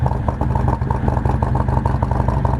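Harley-Davidson Milwaukee-Eight 114 motorcycle fitted with an S&S 475 cam idling in neutral, a loud, close, uneven V-twin lope with rhythmic thumping pulses throughout.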